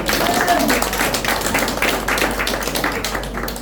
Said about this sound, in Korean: 큰 박수 다시 한번.